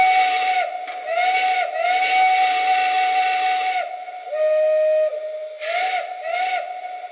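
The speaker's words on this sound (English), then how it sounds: "That's actually a pretty cool whistle." A Lionel Legacy model of a Frisco 1630 Decapod steam locomotive sounds its whistle in a series of chime-like toots, some short, some held longer, with brief pauses and slight pitch bends between them.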